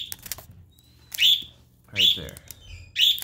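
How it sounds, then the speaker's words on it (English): A small pet bird chirps in three short, bright calls spaced about a second apart, close to the microphone, with a person speaking briefly between them indoors. "Ignore the bird!"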